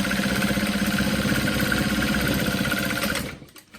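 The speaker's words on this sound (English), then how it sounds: "we're going to sew right next to our stabilizer" A sewing machine stitches right beside the stabilizer on a tote bag, running loud, close and steady with a fast even rhythm, then stopping near the end.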